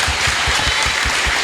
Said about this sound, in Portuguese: Uma salva de palmas pro Capuã.